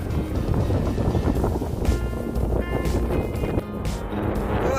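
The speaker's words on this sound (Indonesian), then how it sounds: "namun angin cukup kencang juga" Strong wind near a mountain summit on Mount Slamet after a storm buffets the microphone with a constant rough roar and gusty rumble, no voices.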